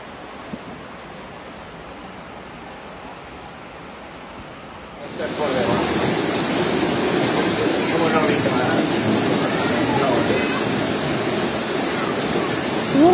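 Heavy rain pours down in Torrevieja, Spain, a steady wash of hiss that swells sharply halfway through into a louder, rushing torrent of water.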